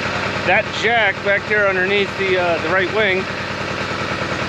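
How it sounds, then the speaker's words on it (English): A high pack aircraft ground unit warms up inside a hangar beside an F-4 Phantom, a steady mid-pitched engine hum running throughout, loud and close beneath someone talking. "what we got going on today is I got the high pack warming up"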